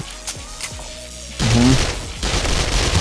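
Gunfire in the survival game 7 Days to Die: a few sharp, separated shots at first, then a louder burst of heavy, booming fire that continues in dense volleys.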